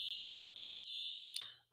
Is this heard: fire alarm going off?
yes